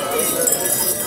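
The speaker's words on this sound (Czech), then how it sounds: "pohárky nech zvoňá" Wine glasses clinking together in a toast at a St. Martin's Day new-wine celebration in Valtice, a dense, bright run of overlapping clinks from a gathered crowd with voices mixed in.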